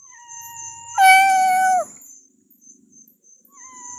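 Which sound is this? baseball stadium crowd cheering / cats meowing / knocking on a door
cats meowing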